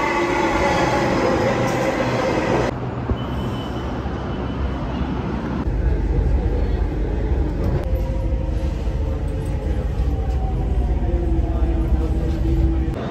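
A metro train rumbles loudly nearby as it pulls into the station, with rolling wheel noise, faint squeals and shifting mechanical tones.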